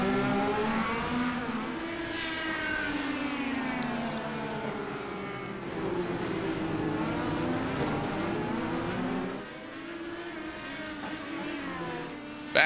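IndyCar race cars in the iRacing video game at the Detroit circuit: steady high-pitched engine whine with rising and falling revs through gear shifts, sustained throughout, with a brief dip in level near the end.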